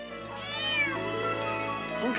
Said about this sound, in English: Can I keep the kitten?